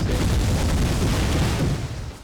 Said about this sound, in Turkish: Abi şu el bombası atma yerini çok seviyorum ya. Bak bak bak bak. Bak nasıl patlayacak